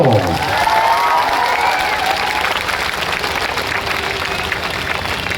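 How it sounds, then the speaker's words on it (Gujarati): Audience at a community gathering breaking into sustained applause, a dense wash of many hands clapping with some cheering mixed in, loud at first and gradually thinning. "તાળીઓ પાડશો."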